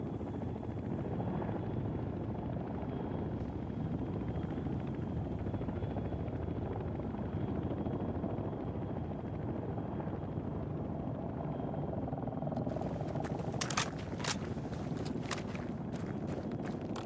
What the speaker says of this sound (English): Hostile helicopter operating in your area.